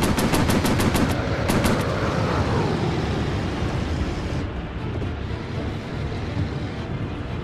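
Rapid machine-gun bursts ring out against enemy bombers in the VR aerial combat game Warplanes: Battles over Pacific, a dense loud volley of shots over a constant roaring engine drone that thins out toward the end.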